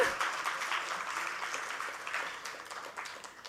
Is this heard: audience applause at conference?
yes